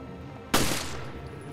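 A single loud, close gunshot from the survival horror game Resident Evil Revelations, a sharp crack followed by a short decaying tail.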